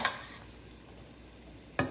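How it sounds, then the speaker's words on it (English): Carrots sizzle in a hot pan as tongs stir them, a steady soft frying hiss with brief clattering scrapes of the tongs at the start and again near the end. "I am just gonna take these tongs and start stirring these carrots because they're starting to sizzle."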